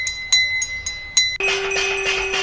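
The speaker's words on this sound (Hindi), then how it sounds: "केंद्रीय गृह राज्य मंत्री नित्यानंद राय ने घर के बाहर लगी घंटी को बजाया।" A bell hung outside a house is rung several times in quick, sharp strikes, then a louder, sustained ringing tone swells and carries on to the end.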